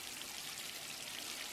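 Water pours steadily in a kitchen within a horror video game, a soft continuous hiss and trickle with no break, heard alone at low level.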